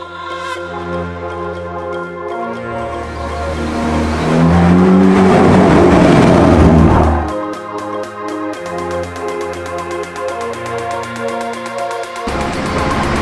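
A Hyundai i30N Performance engine revs hard, climbing through rising rev sweeps to a loud peak, then dropping back to a rumbling idle before another sharp blip, close and loud with no talking.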